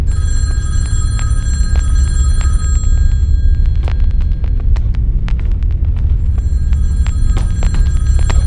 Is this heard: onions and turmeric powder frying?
no